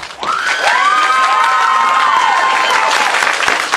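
A lively audience cheers and applauds loudly at a cosplay contest at a fan convention, with shouts and a rising whoop riding over continuous clapping.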